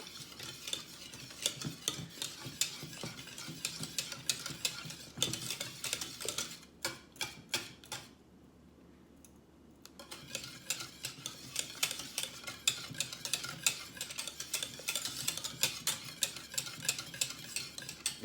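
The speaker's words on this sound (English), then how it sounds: "take it off the heat for a minute and drop in 2 tablespoons of butter and get that melted in." Butter being stirred into lemon meringue pie filling in a pot just off the stove heat, with steady close scraping and tapping strokes that pause briefly midway and then resume.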